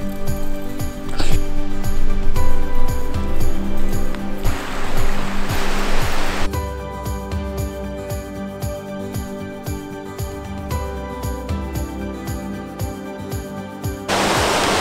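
Creek water rushing steadily along the Falls Creek Falls Trail, a loud, continuous broadband wash with brief lighter tinkling over it and a momentary quieter stretch near the end.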